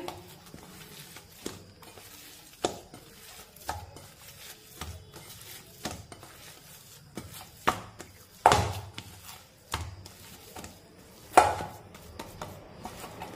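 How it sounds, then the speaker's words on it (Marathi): Dough for shepu (dill) paratha is worked by hand with oil, giving soft, irregular thumps and pats every second or so, close and fairly quiet, with no talking. "आता पुन्हा एकदा व्यवस्थित मिक्स करून घेऊया।"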